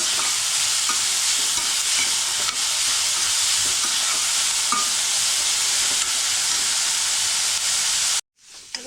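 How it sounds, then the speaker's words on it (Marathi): Carrots and mixed vegetables sauté in a pan, a steady loud sizzle with stirring scrapes that runs unbroken for about eight seconds and then cuts off abruptly. "गाजर घेतलं आहे ते सुद्धा घालते आता चांगल्या व्यवस्थित आपल्याला परतून घ्यायचं आहे"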